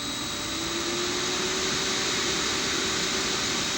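Electric motor spinning up on a five-second ramp with a DC injection braking drive, a steady close whine and broadband whir holding constant tones, loud and alone.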